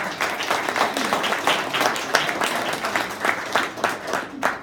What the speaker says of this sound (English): So before I introduce Bob, can we give him a round of applause for coming in?